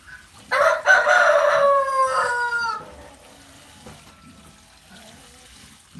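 A rooster crows loudly and nearby in a long drawn-out cock-a-doodle-doo during morning farm chores, followed by quieter outdoor background with faint distant rustling and a softer call.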